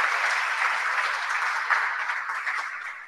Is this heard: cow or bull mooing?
no